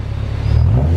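A Kraftwerks supercharged Honda S2000 with a new header revs on a dyno, the loud, deep engine note swelling and rising in pitch over one short, close burst.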